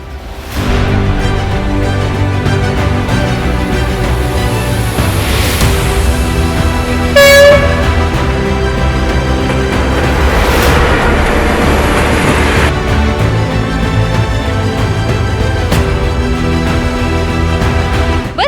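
Loud, sustained horn blasts sound at Margilon railway station, layered with a continuous droning tone and a sharper burst around the middle.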